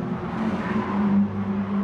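Race cars in the Gran Turismo Sport video game drone steadily through a high-speed S-bend on the Dragon Trail circuit, a continuous engine hum that swells slightly, with no voices.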